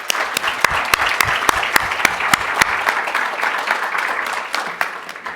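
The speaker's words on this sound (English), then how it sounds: "A big round of applause for them." An audience at a bar-industry seminar claps for the panelists, with sharp individual hand claps standing out over a continuous round of applause that gradually thins toward the end.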